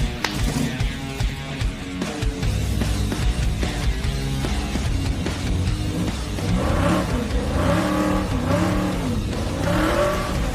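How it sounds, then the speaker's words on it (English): A Mopar or Ford muscle truck doing burnouts, its engine revving loud and close without a break, with rising and falling rev sweeps toward the end. "And I think we're ready to go do burnouts."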